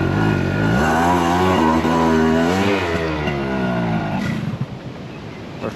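Loud motorcycle engine revving and rising in pitch while riding on a beach, dropping off near the end into rougher, sputtering idle.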